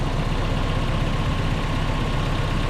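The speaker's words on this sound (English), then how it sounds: "22RE Performance engine in it." A 1994 Toyota pickup with a 22RE Performance engine idles steadily, a low, even mechanical rumble held close and unchanging without talk.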